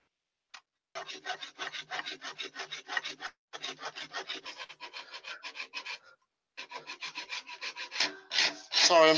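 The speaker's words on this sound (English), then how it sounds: "I'm just doing a bit of shaping with my rasp here before I get the sandpaper to it" A wood rasp files rhythmically across a piece of cherry wood being shaped into a turned baseball cap, dozens of quick close-up rasping strokes in bursts separated by short pauses, with a louder scrape at the end.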